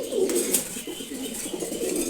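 Two male pigeons, a racer and a Giribaz kept together, coo in low repeated rolls while they fight, fairly soft and close, with a few brief rustles that may be wings and no voices.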